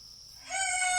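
A voice imitates a rooster's cock-a-doodle-doo crow, a single short, bright, rising call that grows louder within about a second.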